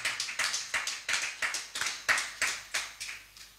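A church congregation claps in steady rhythmic unison, about ten sharp hand claps at an even pace, fairly close and without voices.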